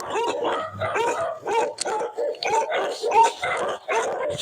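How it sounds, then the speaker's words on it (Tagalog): Several dogs bark and yip in rapid, overlapping bursts nearby, with a few whimpers mixed in, fairly loud and continuous. "Ingay yan. Aso."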